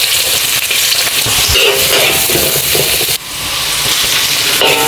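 Onion and garlic frying in hot oil give a steady, dense sizzle that holds for about five seconds, close and loud, with a brief dip partway through before the crackle returns.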